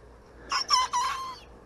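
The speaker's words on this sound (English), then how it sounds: "You're trying to learn to crow." A small rooster gives a short, thin crow in three broken syllables, fairly close and clear, ending in a drawn-out wavering note.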